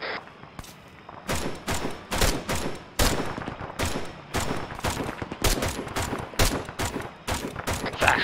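Repeated bursts of gunfire in the military shooter Arma 3, loud, close volleys of rapid shots recurring every half second or so across the whole stretch, with faint voices mixed in.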